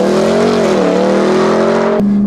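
A Ram TRX pickup roars hard through a 0-60 acceleration run. The loud, close engine note climbs and dips in pitch, then jumps abruptly near the end as the transmission shifts.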